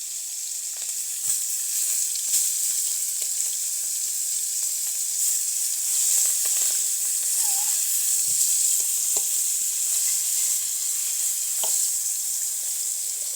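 Food frying in a pan gives a steady, moderate sizzle with a few faint clicks and taps, holding evenly throughout with no voices.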